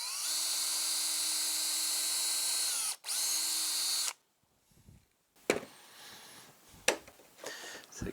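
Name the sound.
power drill drilling a pilot hole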